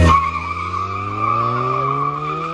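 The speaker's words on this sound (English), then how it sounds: "This model's supercharged. The newer ones are turbo. This one's supercharged with Scorpion exhaust." Supercharged engine of a 2003 MINI Cooper S fitted with a Scorpion axle-back exhaust, heard up close as a loud, steady droning hum with a strong whine held evenly throughout, no talking.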